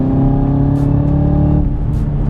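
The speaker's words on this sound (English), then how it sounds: "that whine of the supercharger when you punch it" A supercharged 2018 Chevrolet Camaro ZL1 1LE accelerating hard, its loud, close engine roar carrying a strong steady tone through a brief burst.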